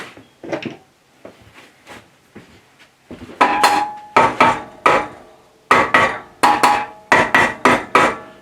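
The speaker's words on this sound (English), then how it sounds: "One thing I need is a nylon mallet." Sharp nylon mallet taps on a BS250 10-inch bandsaw's metal table as it is knocked into place, a few softer knocks followed by a run of about ten crisp, evenly spaced close strikes.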